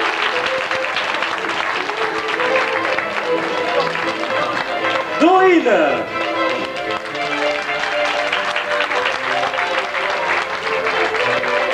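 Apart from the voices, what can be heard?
audience applause at a dance show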